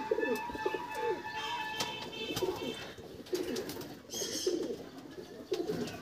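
Pigeons coo inside a loft in repeated soft, throaty bursts at close range, with a few chirps mixed in over quiet background.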